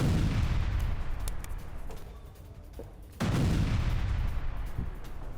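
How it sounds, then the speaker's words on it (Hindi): A mine detonates during mine clearing in Russia-Ukraine war footage. Crackling, rough background noise dips, then a sudden loud blast bursts in about midway and leaves a sustained harsh roar with sharp pops. "माइंस क्लियर करते वक्त विस्फोट हुआ है"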